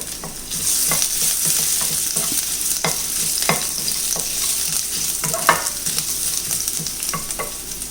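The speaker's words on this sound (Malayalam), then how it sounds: "ഇതിലേക്ക് നമുക്ക് ഒരു 3 വെളുത്തുള്ളി അല്ലി അരിഞ്ഞതും ഒരു ചെറിയ കഷ്ണം ഇഞ്ചി അരിഞ്ഞതും ഇട്ട് കൊടുക്കാം" Chopped garlic cloves and a small piece of ginger frying in a pan for egg biryani, a steady close sizzle broken by repeated scraping and tapping of a spoon as it is stirred, with no talking.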